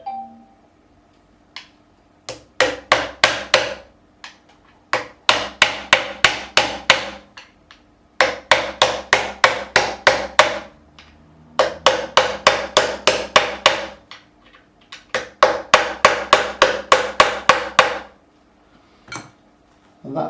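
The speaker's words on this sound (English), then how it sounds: "I will go and just tap each one just to make sure that I will be supporting the neck" A hammer taps frets along the neck of a Harley Benton Custom Line DC guitar in quick bright bursts of about eight to ten strikes each, separated by short pauses, close and crisp.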